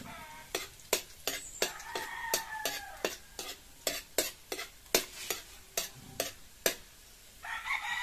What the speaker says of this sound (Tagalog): Halo-halo lang guys para hindi masunog ang ating bawang.